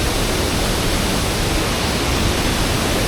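A big mountain waterfall at Doi Inthanon, Thailand, makes a dense, unbroken rushing roar that stays loud and even throughout.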